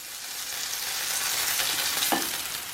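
A chicken zinger burger fries in hot lard with a loud, dense, continuous sizzle close by, swelling slightly toward one brief bubbling burst; no voices.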